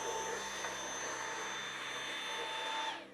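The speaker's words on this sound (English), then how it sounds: "There's nothing in the world but the vacuum." A vacuum cleaner runs steadily on carpet, a loud, constant motor whine with a bright tonal hum that holds evenly throughout, then starts winding down at the very end.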